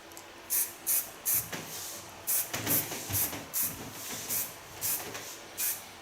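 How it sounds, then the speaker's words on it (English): Hairspray sprays onto hair in about ten short, close hissing bursts at a steady rhythm, with quiet pauses between them. "I use a little bit hairspray, not too much."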